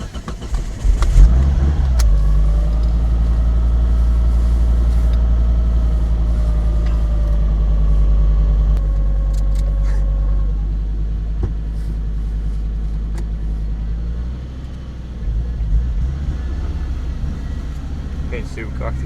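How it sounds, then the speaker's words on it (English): A Mazda Miata swapped to a five-cylinder engine fires up and settles into a loud, steady idle with a deep rumble, the pitch shifting slightly as it runs, with people talking nearby. "I'll start the car and we'll start tuning it."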